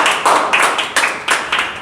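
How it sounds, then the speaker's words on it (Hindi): Students at a coaching centre clap for a teacher, a close, loud burst of hand claps arriving in uneven rhythmic groups of several quick slaps, with no talking over them. "हम चाहेंगे कि एक बार ऐसे शिक्षक के लिए भी ताली बजनी चाहिए।"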